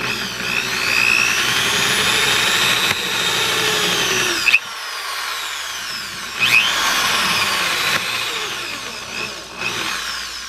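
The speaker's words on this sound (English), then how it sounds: "a good way to drill any of these plastic things with a step drill and a low speed" Step drill biting into plastic at low speed, a steady whirring grind with a rising high whine, broken by two brief pauses and sharp restarts, close and fairly loud.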